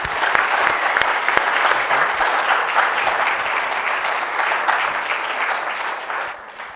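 A museum audience at the McNay applauds to welcome the speakers of an exhibition conversation, with steady, full clapping from a seated crowd that holds strong and tapers off at the end.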